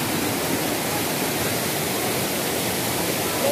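Tanawan Falls pours in a steady, dense roar of falling water. The broadband rush is constant and close, with no voices.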